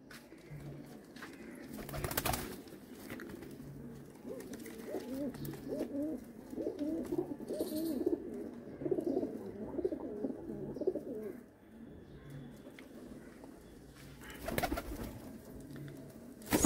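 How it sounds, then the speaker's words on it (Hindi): Pigeons coo softly at a pigeon sale, a low, bubbling murmur that swells in the middle and carries on throughout, with a few sharper knocks and rustles nearby. "देख ले कबूतर"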